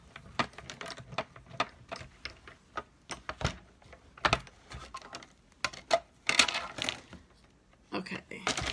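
A hand-cranked die-cutting machine rolls forward and back through paper for a card-making project, producing uneven bursts of clicking and ratcheting with soft grinding, and a person speaks between and over them.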